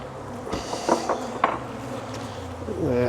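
Bees buzz loudly and continuously close to the microphone around an opened hive, individual insects droning past, with a few faint knocks and thuds.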